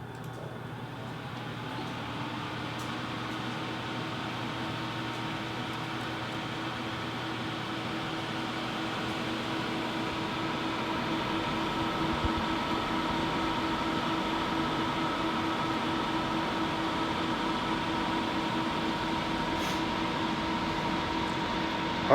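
A Corsair H100i liquid CPU cooler running at full speed gives a steady, continuous whirring fan drone with a faint tonal hum, unbroken and moderately quiet.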